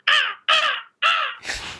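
Three sharp, raspy crow caws voiced by a voice actor imitating the bird, evenly spaced and close, followed by a rougher, breathier fourth call.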